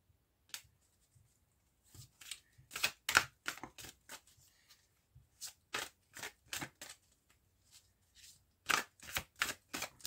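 Cards are shuffled close up for a nine-card spread: quiet, crisp snapping and flicking in irregular clusters, separated by near-silent pauses.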